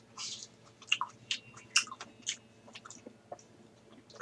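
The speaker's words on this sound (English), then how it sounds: "And now I'm munching on grapes." Grapes are munched close up, giving a quick run of soft, wet chewing and squishing bites in a quiet room.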